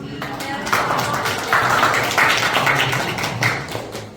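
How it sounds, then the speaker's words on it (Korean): Audience clapping to welcome a lecturer at a Korean summer camp event, a sustained, moderately loud patter of many hands in a hall, swelling in waves without pause. "큰 박수로 맞이해주시기 바랍니다"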